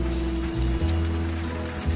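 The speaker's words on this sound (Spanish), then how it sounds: "Se recrudece la lluvia acá en Siloé." Heavy rain drums on a rooftop in Siloé, a dense, loud, unbroken hiss with a steady low hum beneath it.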